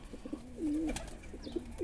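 Soft pigeon coos repeat several times in low, rolling phrases, fairly close, with a faint higher chirp partway through and no voices.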